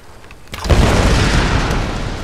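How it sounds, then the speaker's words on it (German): A loud explosion booms in a Tomb Raider game, a sudden burst at about half a second that swells into a sustained deep rumble and roar lasting to the end, with no talk over it. "So, jetzt explodiert das."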